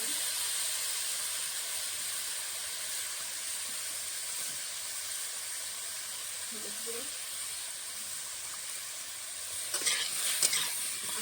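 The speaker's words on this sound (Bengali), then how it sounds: "আমটা হালকা করে ভেজে নেব" Green mango gently frying in a pan for a sweet-and-spicy chutney, a steady soft sizzle and hiss running throughout, with a few faint utensil knocks near the end.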